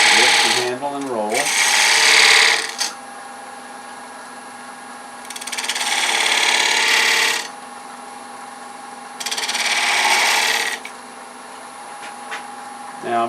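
A wood lathe with a spindle gouge cutting a wooden medallion ornament: three sustained bursts of scraping, rasping cutting noise a few seconds each, separated by quieter stretches of the lathe's steady motor hum, with a brief voice at the start.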